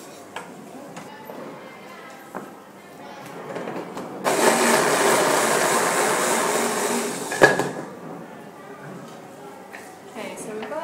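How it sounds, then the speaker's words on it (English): Onions being ground finely in a food processor, a loud steady whirring burst of about three seconds midway, with a person talking before and after it. "you just want to grind them until they're chopped finely like that."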